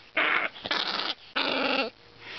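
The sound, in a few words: dog growling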